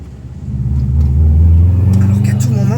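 A Subaru 4x4 engine drops a gear while driving through snow, its low rumble swelling and holding steady at a loud, close level as the revs rise, with people talking faintly over it.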